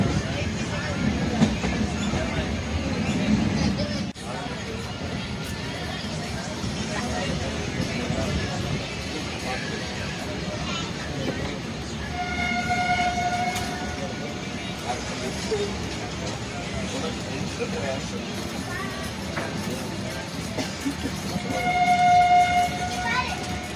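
Passenger train running on rails from Trichy toward Vaitheeswaran Kovil on a rainy day, a steady low rumble and rattle throughout with faint horn-like tones in the background.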